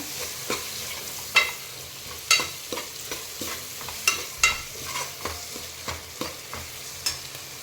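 Sliced medium tomatoes are stirred in a frying pan for a meal maker veg pulao, with a low sizzle underneath and sharp, regular spatula scrapes and clinks roughly every half second, close by and without talk.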